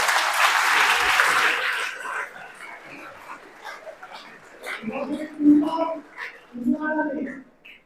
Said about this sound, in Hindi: इनके लिए ताली बजाएंगे एक बार।